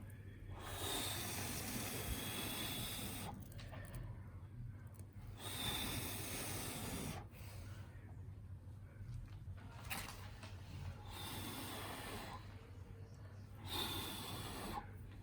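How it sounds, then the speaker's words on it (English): Bursts of breath blown onto an acrylic paint pour of five colours, several long airy puffs repeating with short pauses, close and steady over low background hum. "I'm gonna blow a little bit here and see what colors pop out of that"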